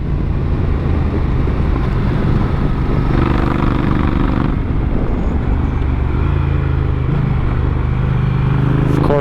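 A Honda Africa Twin CRF1000L police motorcycle rides along a freeway with a steady engine drone and wind roar, and the pitch rises late as it speeds up, under intermittent talk.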